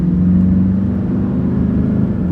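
A Toyota Hiace van with a tuned automatic transmission pulls away and accelerates, a loud, steady engine drone heard from inside the cab.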